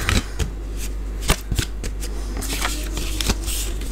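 A paper card is handled with crisp rustling, sliding and tapping, irregular close-up clicks and shuffles for a few seconds, with no talk.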